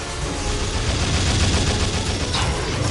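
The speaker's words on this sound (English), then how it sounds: "I'm getting shot from behind." Gunfire in a Resident Evil 6 mercenaries-style shooter, a dense continuous rattle of rapid shots and impacts, loud and close, with a brief brighter burst near the end and no talk.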